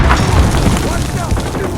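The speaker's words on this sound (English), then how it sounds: "Grenade out!" A grenade goes off in the video game Call of Duty Modern Warfare, a heavy, loud boom that rumbles on, with battlefield noise and shouted voices layered over it.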